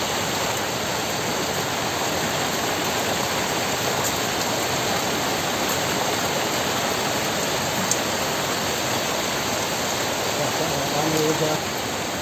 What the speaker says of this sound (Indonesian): di bawah sana itu sungai ya, aliran sungai yang tadi kita lalui di sebelah timurnya